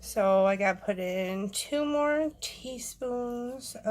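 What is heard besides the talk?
None of the usual background noises is heard.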